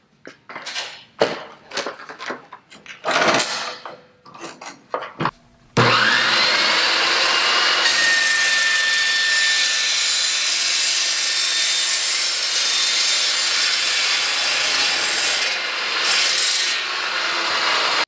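A bandsaw cutting aluminum intercooler piping at a 5-degree angle for a pie-cut bend: a steady, loud, continuous grinding hiss runs after a few preceding knocks and handling clatter, without a break until the end.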